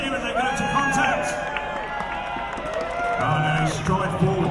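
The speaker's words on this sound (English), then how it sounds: "Give them a cheer as they go to contact!" A crowd cheering and whooping as Viking re-enactors charge into battle at Clifford's Tower during the York Viking Festival, lively and spread out, with a commentator talking over it.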